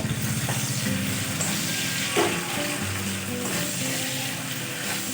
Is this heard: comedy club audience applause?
no